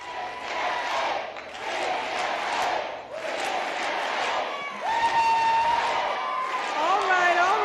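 A crowd at a Massachusetts congresswoman's victory celebration cheers and claps, a loud roaring swell with shouted whistles and voices rising over the applause, growing more intense near the end.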